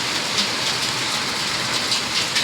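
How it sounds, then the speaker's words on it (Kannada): Heavy March rain mixed with hail falls steadily at a village home, a dense continuous hiss of drops and pellets striking surfaces with no break across the moment. "ಎಷ್ಟು ಮಳೆ ಐತಿ ನೋಡ್ರಿ."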